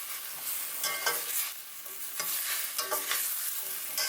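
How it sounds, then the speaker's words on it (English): Vinegar boils and sizzles in a pan while bitter melon is stirred through it, with scraping and splashing strokes in an irregular rhythm, close and moderately loud, without talk. "Okay, vinegar is boiling."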